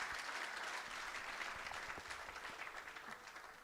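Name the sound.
round of applause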